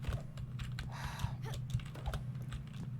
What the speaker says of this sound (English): I need to seriously invest in a different keyboard because my keys are so loud, apparently